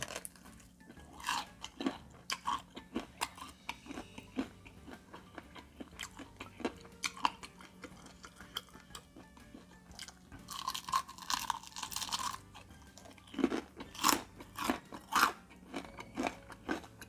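Crispy fried chicken with crunchy batter being bitten and chewed up close, a long run of loud, sharp crunches and wet chewing in irregular bursts, with no talking.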